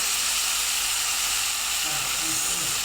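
Matki sprouts fry in misal masala with a loud, continuous sizzle and bubbling hiss that fills the whole moment close up.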